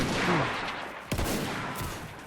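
Dense, roaring gunfire in the Roblox game, a continuous loud wash of shots with one sharper blast midway and no clear voices over it.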